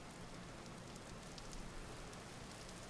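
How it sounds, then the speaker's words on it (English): Rain falls in the video game Vintage Story as a faint, steady hiss of pattering drops, continuous and even, with no voices. "Oh, we're actually getting some rain already."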